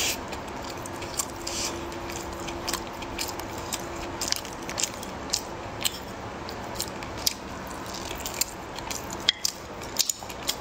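Close-up crunching bites and chewing of cookies dipped in white sugar, with crisp cracking snaps repeating irregularly over a steady soft background.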